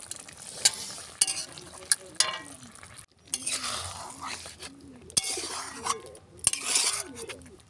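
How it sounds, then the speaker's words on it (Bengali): Spiced cauliflower and potatoes are stirred together in a pan, with repeated utensil scrapes and clinks over a soft sizzle in short bursts, and a voice talking between the strokes. "ঢেলে দিলাম, দিয়ে ভালো করে আমি নাড়িয়ে চাড়িয়ে নিচ্ছি।"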